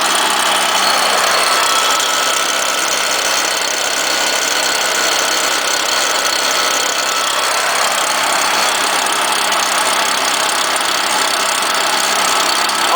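A cold-started STIHL chainsaw engine holds a loud, steady high idle, a close, unbroken buzzing drone with no change in pitch or volume throughout.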